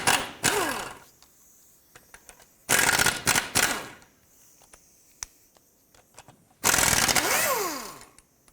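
Socket ratchet working loose two nuts and a bolt on a 2001-2007 Toyota Highlander front suspension during control arm replacement: three bursts of rapid ratchet clicking, close and loud, with scattered small metallic taps and quiet gaps between.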